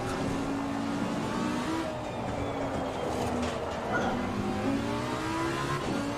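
Race car engine in Assetto Corsa Competizione, a wet night race, droning steadily with pitch sweeps as it shifts down through the gears toward first, loud and continuous with no talking.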